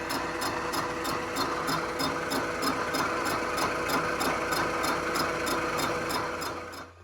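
Steady machining noise from skimming the face of a 1275 cylinder head on a machine, a continuous mechanical hum with regular rapid ticking pulses throughout, close and even, fading slightly at the end.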